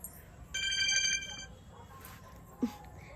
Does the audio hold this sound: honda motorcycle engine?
no